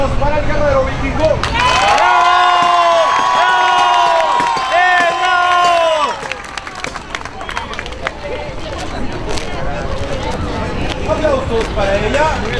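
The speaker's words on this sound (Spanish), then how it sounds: "Aplausos para el guerrero vikingo." A crowd roars for a Viking warrior, with sustained group shouting and cheering that gives way to ongoing clapping and general crowd noise.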